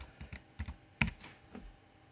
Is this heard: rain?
no